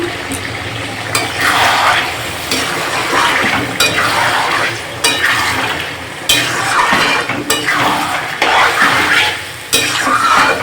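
Chicken pieces cooking in oil in a pot are stirred in repeated loud scraping sweeps about every second and a half, over a steady sizzle.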